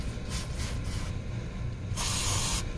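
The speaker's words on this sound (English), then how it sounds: "a little bit of spray, just going back over them." Aerosol spray hisses onto the front brake parts of a 2003 Chevy Silverado 1500, several short bursts followed by a longer, louder blast, close to the microphone with no voices.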